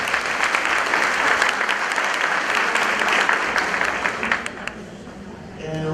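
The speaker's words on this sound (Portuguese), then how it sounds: "Uma salva de palmas novamente." Seminar audience at an education conference in a hotel applauding, dense steady clapping for about five seconds that thins out and fades near the end.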